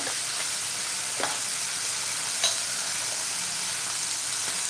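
Ground spices, starting with turmeric, hit hot oil in a pan while masale bhaat is cooked: a loud, steady, close sizzle that runs the whole time, with a couple of faint clicks from stirring.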